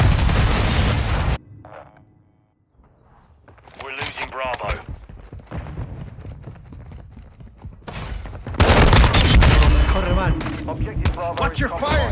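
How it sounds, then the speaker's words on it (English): Grenade blast and gunfire in a third-person shooter domination match: a loud explosion opens, then scattered shots, clanks and bursts follow, with a second heavy eruption later and in-game voices calling out throughout. "Grenade!"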